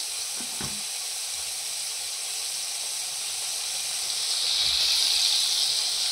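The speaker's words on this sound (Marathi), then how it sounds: "असं तेलावर बटर टाकायचं." Butter melting into hot oil in a pan for pav bhaji, giving a steady bright hiss that swells louder near the end, with a couple of faint utensil knocks early on and no talk.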